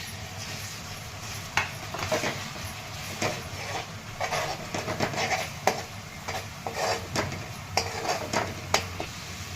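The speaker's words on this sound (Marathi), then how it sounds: "एक लसूण आणि खोबरं बारीक करून घेतलेले ते परतून घ्यायचं." Chopped garlic and coconut sautéing in oil for Maharashtrian khengat, with a steady sizzle under repeated scraping and stirring of a spoon against the pan, close and moderately loud, no talking.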